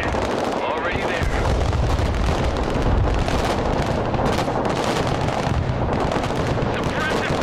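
Dense suppressive gunfire and artillery from the military strategy game Broken Arrow, an island battle: machine guns rattle without pause while heavy booms and blasts pound underneath, loud and continuous, with voices speaking over it.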